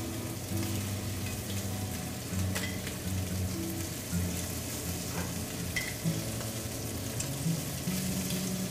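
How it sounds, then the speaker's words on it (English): Shrimp sizzle in hot olive oil in a skillet, a continuous crackling fry with scattered pops, fairly quiet and heard alone. "The sizzle. Ooh, I hear the sizzle."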